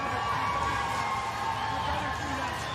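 A pro-Escoboza crowd at a bare-knuckle fighting championship event in Florida roars with steady, continuous cheering and shouting, filling the arena for a few seconds without letup.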